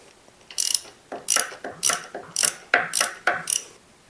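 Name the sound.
ratchet with 14 socket opening oil filler cap, Rawrr Mantis X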